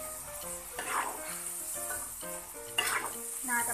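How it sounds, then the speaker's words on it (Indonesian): Potato pieces fry in hot oil in a pan over lowered heat, a steady sizzle with intermittent stirring scrapes and clinks of utensil against pan, up close, with faint background music. "masukkan kentangnya, kemudian apinya kita pelanin dan kita masak kentangnya sampai benar-benar empuk"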